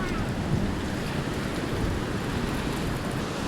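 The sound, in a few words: waterfall flowing below in a nature reserve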